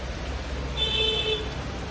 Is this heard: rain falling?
yes